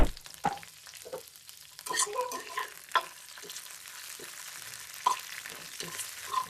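Garlic and green chili fry in oil in a pan while cooking shepu bhaji, giving a soft steady sizzle with occasional sharp clicks and stirring scrapes from a utensil, close by.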